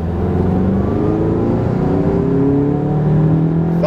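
A Volkswagen MK7 GTI fitted with a Forge blow-off valve pulls hard in second gear, its loud, close engine drone climbing steadily in pitch, with a short rushing burst right at the end.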